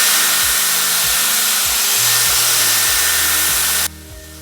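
A Dyson Airwrap with a firm smoothing brush blow-dries hair in a steady, loud, close airy roar with a whining motor tone that shifts in pitch. It cuts to a quieter hum at the end.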